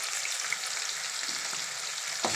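Onions and mustard seeds with fennel sizzle steadily in hot oil for tomato thokku, a dense continuous frying hiss with a soft stir near the end, no voices.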